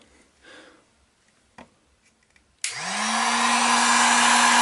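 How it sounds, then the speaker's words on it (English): A heat gun switches on for foam work, its airflow rising quickly into a loud, steady whooshing roar with a constant hum, after a few quiet handling clicks and soft rustles. "Now be very careful when you're using a heat gun"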